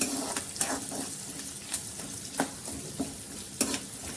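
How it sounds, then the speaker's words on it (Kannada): Onions frying in a pan, a steady sizzle broken by several sharp stirring scrapes spaced through the few seconds, close and moderately loud with no talking. "ಈರುಳ್ಳಿ ಸ್ವಲ್ಪ ಚೆನ್ನಾಗಿ ಫ್ರೈ ಆಗ್ತಿದ್ದಂಗೆ"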